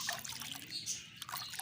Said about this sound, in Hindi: ये इस पानी को अच्छी तरह से इसमें हम पहले मिक्स कर लेते हैं ताकि कोई नीचे बैठा ना रह जाए